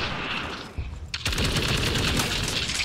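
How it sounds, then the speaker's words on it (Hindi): Machine gun fire in the World War Heroes 2 video game: a loud, close, sustained rattling burst that briefly drops, then roars back in a dense continuous stream of rapid shots. "हेड शॉट मशीन गन वैसे है बहुत कमाल की है वाली।"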